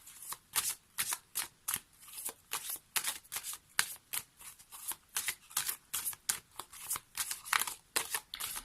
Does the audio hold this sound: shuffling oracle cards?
yes